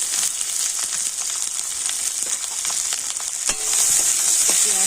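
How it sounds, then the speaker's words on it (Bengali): Sliced onion and green chili fry in hot oil in a home kitchen. A constant close sizzle runs throughout, broken by scraping stir strokes, and it grows louder toward the end. Nobody speaks. "পেঁয়াজটা তেলের উপর একটু হালকা করে ভেজে নিচ্ছি"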